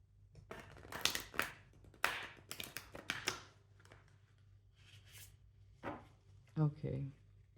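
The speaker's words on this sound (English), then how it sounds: "Just going to shuffle." Tarot cards being shuffled by hand, a string of soft, quick riffling taps and slaps in irregular bursts, close and quiet, with short pauses between them.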